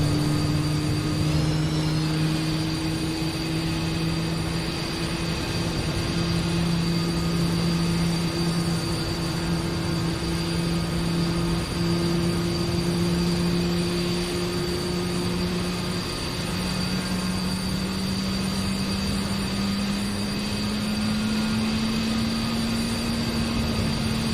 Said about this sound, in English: we will listen to engine number 2 start up